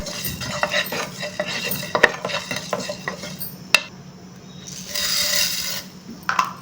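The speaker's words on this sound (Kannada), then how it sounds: "ಮೆಂತ್ಯ ಜೊತೆಗೆ ಜೀರಿಗೆ ಮತ್ತು ಧನಿಯಾ, ಒಣಮೆಣಸಿನ್ಕಾಯಿನ ಹಾಕ್ಕೊಂಡು ಚೆನ್ನಾಗಿ ಹುರ್ಕೋಬೇಕು" Fenugreek, cumin, coriander seeds and dry red chillies are dry-roasted in a pan for black-eyed bean sambar, with steady scraping and clicking of a stirring spoon, a couple of sharp knocks and a brief airy hiss late on.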